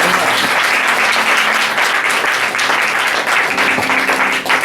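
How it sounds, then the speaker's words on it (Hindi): A church congregation claps continuously, dense and loud applause from many hands filling the room for several seconds. "ताली बजाएंगे परमेश्वर की"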